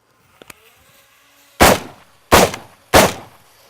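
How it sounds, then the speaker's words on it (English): Three loud rifle shots crack at a target at close range, spaced roughly evenly about half a second apart, after a couple of faint clicks and near silence. "Let's try it with the rifle real there quick."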